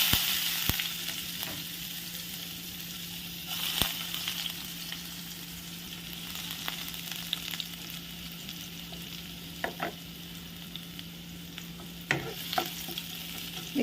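Chopped garlic added to cumin, cardamom, cloves and a cinnamon piece frying in a pan for a paneer and beans sabzi: a quiet steady sizzle with occasional sharp pops and stirring clinks, no talking.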